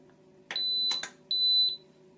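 A Crock-Pot Express multi cooker gives two long electronic beeps after start is pressed, a pair of short clicks between them and a steady background hum, with no talking.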